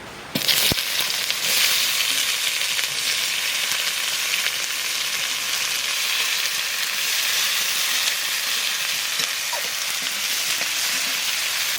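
Onions hit hot oil already seasoned with cumin, bay leaf, cloves, cinnamon and cardamom. A loud, dense sizzle bursts up almost at once and holds steady, close and unbroken.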